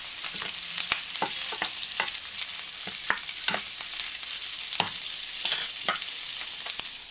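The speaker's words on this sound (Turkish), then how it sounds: "tavuk inciklerimi tereyağında her tarafını güzel bir şekilde kızartıyorum" Chicken drumsticks fry in butter in a pan, giving a steady bright sizzle with scattered crackles and the occasional stir, close and fairly quiet with no talk.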